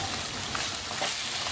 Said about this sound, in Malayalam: നല്ലപോലെ ഒന്ന് വറുത്തെടുക്കാം.